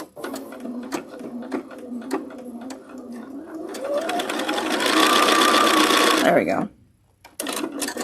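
A sewing machine stitches quilt fabric in a fast whirring run that builds in the middle, between quieter handling clicks and a short pause, with a brief spoken remark.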